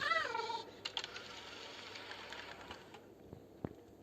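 A cat in a horror video game meows once with a wavering, drawn-out cry, followed by faint clicks and soft taps.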